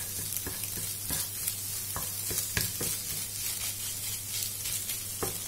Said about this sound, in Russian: при постоянном помешивании слегка обжарю